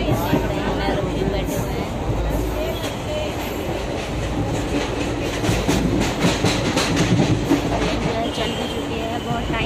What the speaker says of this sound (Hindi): ये ट्रेन जो है वो चल रही है।